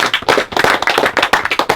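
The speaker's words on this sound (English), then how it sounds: "give yourself a hand clap" Close, loud hand clapping from a small group, a quick uneven run of sharp claps with no talk over it.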